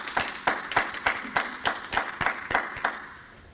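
Hands clapping at a 2020 RMU graduation commencement ceremony, a steady run of about a dozen sharp, fairly close claps at a brisk rhythm, fading out at the end.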